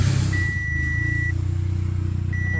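An Audi A4 project car with no brakes and no power steering, parked for five years, creeps forward under a low, steady engine idle while a long electronic warning beep sounds twice.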